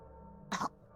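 A person imitates a child coughing during a tabletop role-playing game: one short, sharp cough up close, with quiet room tone before and after.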